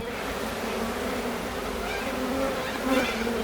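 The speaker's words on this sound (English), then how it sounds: "you can see the bees are starting to make a fuss around the queen" A dense, steady buzz of many honeybees crowding around their queen during a swarm, continuous and close, with no voices.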